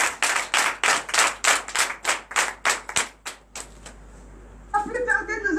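A church congregation claps in acclamation to Jesus at a morning prayer service, a run of steady rhythmic claps that slows and thins out before a voice begins speaking.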